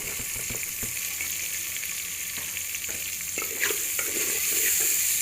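Onions sizzle steadily in oil in a pan for karela dal, a close, continuous frying crackle with occasional stirring scrapes and no talk.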